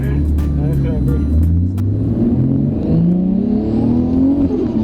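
A Nissan Skyline GT-R R34 engine revs hard and loud, the pitch climbing and falling through several throttle blips, with a voice speaking over it.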